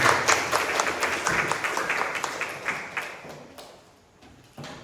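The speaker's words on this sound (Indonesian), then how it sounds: "Tepuk tangan untuk ulang." A training-session audience claps for about five seconds at a teacher peer-teaching workshop, dense and fairly near at first, then thinning and fading toward the end with a few scattered claps.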